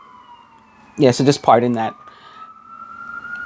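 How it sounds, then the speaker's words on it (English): Fire department sirens wail faintly in the distance, a steady rising tone running under and after a brief stretch of close talking. "I'm talking about the fire department and all, but cue the sirens in the background, right?"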